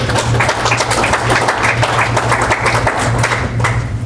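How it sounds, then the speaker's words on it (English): An audience applauds steadily at an ontology summit talk in Buffalo, a dense sustained clapping that fills the whole stretch at close range. "Big applause to Alan."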